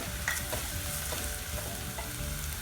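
Ginger and garlic frying in a pan of softened onions for a green peas masala, a steady close sizzle with scraping stir strokes throughout, no talking.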